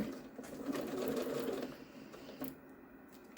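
A sewing machine stitches a fabric pouch with a keychain tab, running in a steady fast whir for about a second and a half before stopping, leaving a quiet room.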